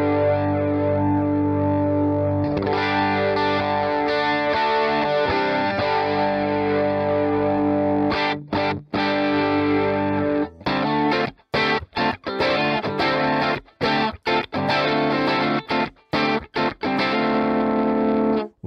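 Electric guitar played through an Amplitube iOS Brian May rig with impulse responses turned up, sustained distorted chords with chorus and echo, later broken into choppy stabs with sharp gaps.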